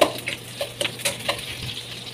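Ginger sizzling in a pan with onion while pinakbet is cooked, a close, steady fry hiss broken by several light scraping stir strokes and clinks of a utensil against the pan.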